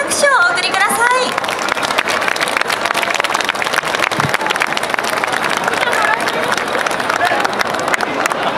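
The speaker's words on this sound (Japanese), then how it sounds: "皆様今一度大きな拍手をお送りください。" Audience applause after an Aomori Nebuta festival hayashi and haneto dance performance at Tokyo Dome, a dense continuous clapping from a large crowd, with a voice speaking near the start.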